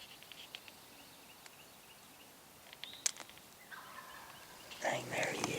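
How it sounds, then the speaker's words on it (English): A wild turkey gobbles in the distance in the Alabama woods during a hunt. A faint gobbling call rises near the end over quiet outdoor ambience, after a few light rustles and clicks. "maybe 200 to hear them gobble."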